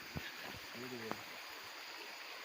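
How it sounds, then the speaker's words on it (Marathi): Steady broadband rush of a flowing village river fills the background, with a few brief clicks and a short tonal sound over it. "तुम्हाला पाण्याचा आवाज तर येत असेल त्यांनी नदी आहे"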